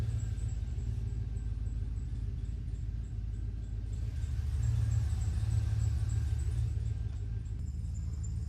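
A cammed GMC truck with a 4L80 transmission swap, its engine rumbling steadily and loudly up close throughout, swelling slightly midway as if under load while driving.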